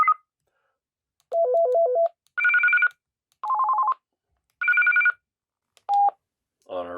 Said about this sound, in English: this is where we can adjust the ringtone